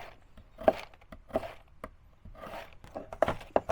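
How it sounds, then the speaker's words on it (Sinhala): A kitchen knife chopping garlic, likely on a board in a village outdoor cooking setting, giving several separate, uneven thunks with short pauses between them, close by and moderately loud with no talk. "ලුණු ටික හරියට කපා ගන්නම්"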